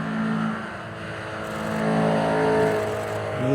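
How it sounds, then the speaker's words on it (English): A Vauxhall Corsa engine runs nearby at the Doune Hillclimb motorsport event, its note rising and falling as it revs and pulls away, steady and fairly loud with no talking. "Vauxhall Corsa."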